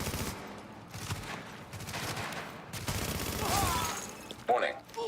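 Scattered bursts of gunfire in The Division video game crackle at moderate distance, mixed with in-game voices talking and a louder shot near the end.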